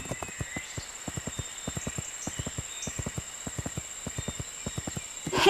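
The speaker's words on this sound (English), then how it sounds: "So I use the displayed control again to change to a gallop, and then use it once more to move into the fastest gallop." Horse hooves galloping in the riding video game My Little Riding Champion, a fast, even rhythmic clip-clop of many beats over a steady background hum, with no voices.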